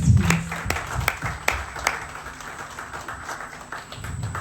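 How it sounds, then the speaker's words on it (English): Scattered applause from an audience at a talk event, a few sharp claps standing out over a thin, uneven patter that fades and then swells slightly again toward the end. "Can we give him a round of applause, please?"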